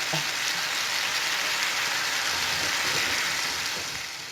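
Teriyaki salmon frying in a pan at high heat, a steady broadband sizzle like light rain that runs unbroken and close throughout, easing slightly at the end, with no talking over it.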